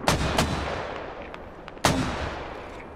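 Mortar rounds firing in a military video game, heard as sharp booming reports, two close together near the start and another loud one later, each trailing into a rumbling decay.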